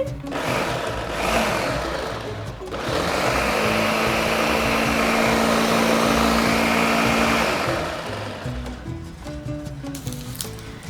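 A blender whirs steadily for several seconds with a rising, buzzing motor tone, then winds down, with kitchen clatter before and after.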